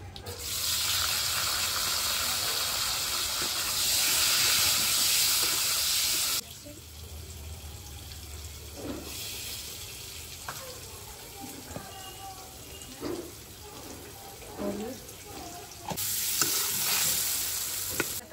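Boiled potatoes drop into hot oil seasoned with black cumin, bursting into a loud, close sizzle that drops away to quieter frying with scraping stirs and clinks before flaring loudly again at the end.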